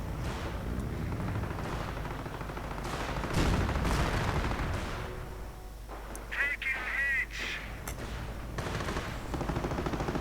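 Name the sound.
gunfire from a Panther tank in a video game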